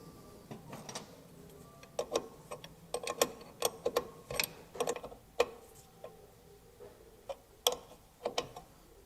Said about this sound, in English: And screw it into the wheel cylinder.